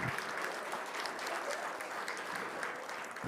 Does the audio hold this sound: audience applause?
yes